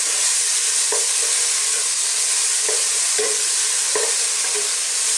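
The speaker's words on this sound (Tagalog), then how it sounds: "lulutuin lang po natin ng ilang segundo yung ating kamatis at ang sibuyas" Tomato and onion sautéing in a pot for a sour chicken soup, a constant close sizzle broken by several sharp spoon knocks and stirring scrapes against the pot.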